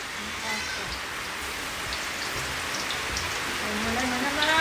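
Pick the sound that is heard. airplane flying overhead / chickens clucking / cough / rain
rain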